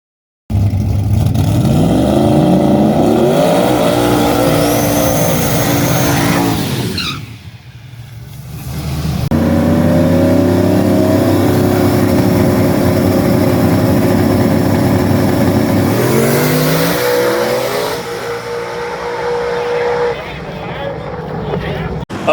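A loud drag race car engine screams up through rapid gear changes with rising pitch sweeps, cuts out briefly, then roars again under heavy acceleration during a pass in the stock block class at ShadySide Dragway.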